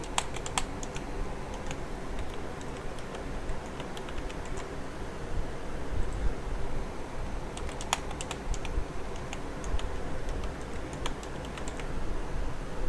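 A password is typed on a computer keyboard: rapid, irregular key clicks that run continuously in close, clear bursts over a faint background hiss.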